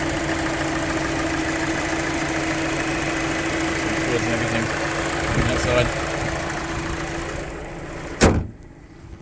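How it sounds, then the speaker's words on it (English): A 2020 Hyundai Kona Active with a 2-litre four-cylinder engine idles steadily under a spoken voice, a constant mechanical hum that ends in a sharp thump near the close. "that is your 2-litre motor, 4-cylinder jobby"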